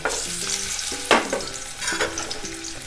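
Egg dropped into hot refined oil in a kadai, crackling and sizzling close by with a sharp burst of spatter as it lands, followed by steady frying hiss and scraping stirs.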